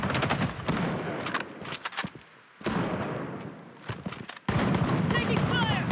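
Gunfire in the shooter game Project: BloodStrike comes as dense, loud automatic bursts with short lulls, and a voice speaks through part of it.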